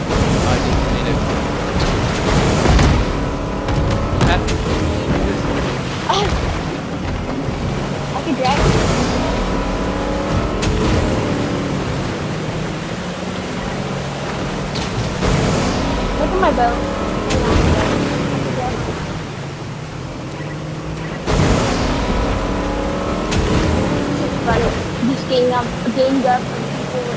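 Motorboat engine droning steadily in the video game Fortnite, with water splashing around the hull and wind, continuous under frequent overlapping voices as players chat throughout.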